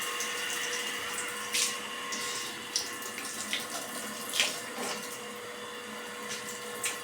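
Tap water runs steadily into a bucket during an outdoor village bath for children, a constant splashing wash with occasional louder sloshes and clinks rising above it.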